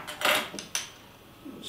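A Polish craft single-hop IPA bottle being opened, with a few sharp metallic clinks and a cap-pop transient, close and fairly loud, ending in quieter handling.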